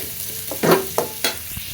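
Green chili and mustard paste sautéed in a pan, a few short bursts of sizzling and scraping as it is stirred, close and brief.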